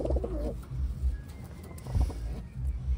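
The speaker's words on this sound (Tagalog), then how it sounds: "Kakito mga kalapatids." Taiwan pigeons coo in a soft, low, repeated rhythm, with several muffled coos close by over a steady low rumble.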